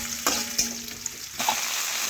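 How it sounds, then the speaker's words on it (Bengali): Onion and pointed gourd fry in a pan with a close, crackling sizzle, broken by a few sharp clatters of stirring, and no talking. "পেঁয়াজ ভাজা হয়ে গেলেই আমি প্রথমে দিয়ে দেব পটল কেটে রেখেছি, পটলগুলো একটু দিয়ে দিচ্ছি।"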